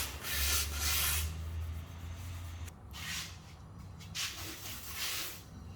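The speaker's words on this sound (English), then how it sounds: "So all we need to do is sand the existing coat of paint flat and get it a little roughed up" Sandpaper rubbing back and forth over an old painted table top, scuffing the existing coat flat in a few steady strokes with short pauses between passes, close and fairly loud.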